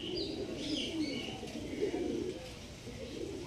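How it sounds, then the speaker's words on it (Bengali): Pigeons in a loft coo softly in low, repeated throaty calls, fairly close, over faint background noise. "তো কাসিম ভাইয়ের পায়রা এটা আমাদের"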